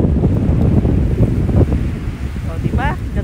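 Strong wind blowing at the seaside buffets the microphone in a steady, loud rumble, with faint surf beneath and a brief high voice near the end.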